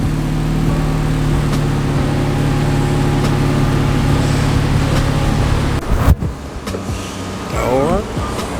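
An Infiniti Q50 with a 3.0T engine and a new Invidia aftermarket exhaust hums steadily at close range, then the tone breaks off and gives way to quieter rumbling and shifting noises.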